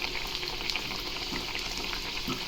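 Poori made with tapioca pearls fries in hot oil over a high flame, giving a steady, close sizzle with small bubbling crackles throughout and no talk.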